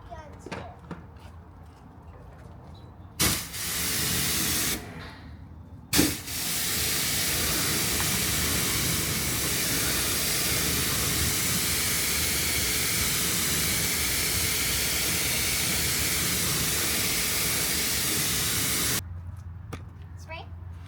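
A sustained, loud hiss of spraying runs for about twelve seconds, with a few sharp knocks before it and quieter shop sounds after it stops.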